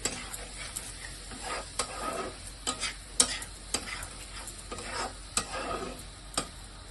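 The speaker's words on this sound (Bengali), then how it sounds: "গ্যাসের আঁচটা একটু কমিয়ে দিচ্ছি, হোক এটা কষানোটা একটু ভালো করে হোক" Spice paste fries in a pan over a turned-down gas flame as potol and prawns cook, with a soft continuous sizzle broken by a series of sharp scraping clicks as a spoon stirs the mixture, close by and fairly quiet.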